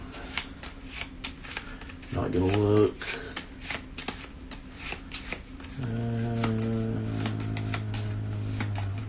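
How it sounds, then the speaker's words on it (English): A deck of event cards for the Arkham Horror third-edition board game is shuffled by hand at a table, with repeated riffling bursts and a longer steady shuffle, while people talk over it. "We shuffle them up."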